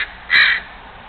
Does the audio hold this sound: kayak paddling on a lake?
no